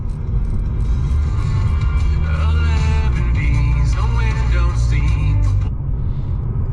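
A 2021 Mercedes-Benz E53 AMG engine roars steadily at close range while driving, a loud continuous rumble with rising and falling revs, then easing off near the end.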